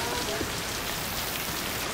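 Heavy rain pours in the Hard Rain campaign of Left 4 Dead, a dense, loud, unbroken hiss of downpour filling the whole moment with no voices on top.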